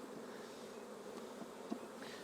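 Honeybees hum at an open hive during an early spring inspection, a faint, steady, continuous drone with no voices over it.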